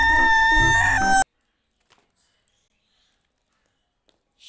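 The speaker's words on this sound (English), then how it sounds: "chicken" A rooster crows loudly and alone with strong harmonics for about a second, then cuts off into near silence with a few faint clicks.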